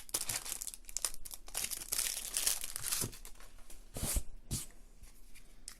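Thick, slick playing cards from The Fox in the Forest card game are handled up close, giving steady crinkly rustling and sliding with a few sharper flicks and snaps near the end.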